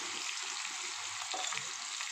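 Ground onion paste added to oil with turmeric in a pan for a home-style curry, heard as a soft, quiet sizzle with a faint stir near the middle.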